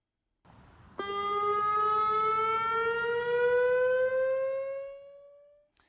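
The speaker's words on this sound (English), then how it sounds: "A monthly community alert siren test will take place tomorrow." A monthly civil defense community alert siren test in Torrance, California winds up and holds a long, loud, steady wail, then slowly fades out, with no other sounds around it.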